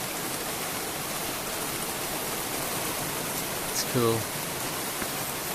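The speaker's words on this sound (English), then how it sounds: "Here the rain's getting a bit more interesting now." Rain falls steadily outdoors in a garden, an even broadband hiss close by, with a person speaking briefly partway through.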